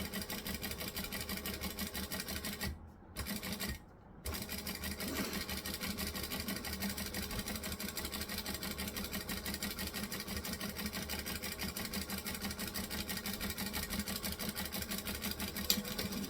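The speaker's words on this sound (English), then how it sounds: "Now I'm going to stitch the inside edge." Sewing machine stitching an inside edge seam at a 4 stitch length, a fast steady close mechanical whir running continuously with two brief pauses near the start.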